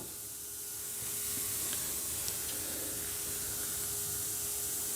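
Brake cleaner sprays in one steady, close hiss onto the front brake caliper of a Chevy Cruze, lasting several seconds with no talking.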